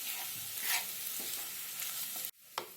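Aloo vada rassa curry stirred in a hot pan, a bright steady sizzle with soft scraping strokes of the spoon, close and fairly quiet, ending in a sharp drop and one last scrape.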